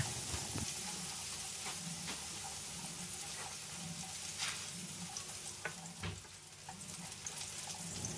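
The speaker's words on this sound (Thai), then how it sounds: "เมื่อน้ำมันของเราเริ่มร้อนแล้วก็ ใส่กระเทียมลงไปได้เลยนะครับ จากนั้นเราก็ผัดให้กระเทียมเราเหลืองหอมเลยนะ" Garlic fries in hot oil in a pan for salted mackerel fried rice, giving a steady close sizzle throughout with occasional clinks and scrapes of stirring.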